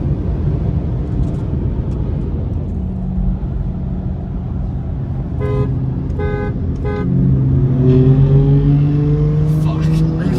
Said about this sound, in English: He's downshifting.